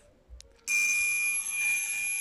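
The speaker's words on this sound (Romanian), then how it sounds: "Deci așa face la când e legată la rețea. Și soneria." A mains-connected electric doorbell rings after a brief soft knock, giving a loud continuous bright ring that holds steady for well over a second, heard up close with no talking.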